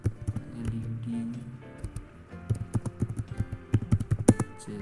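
Close computer keyboard typing in irregular bursts of quick clicks, entering microPython code for an ESP32 LED chaser, with a few soft voice sounds early on.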